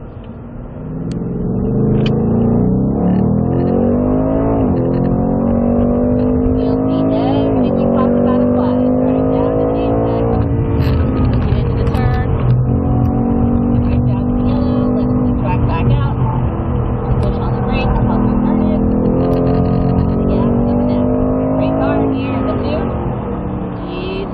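Loud Mustang Mach 1 engine revving and pulling hard as it accelerates on a race track, pitch climbing and dropping through gear changes, with a voice talking over it throughout.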